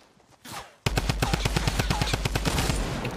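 Rapid automatic gunfire from a gun in the video game Fortnite: a loud burst of evenly spaced shots fires continuously for about two seconds after a short, quieter lead-in.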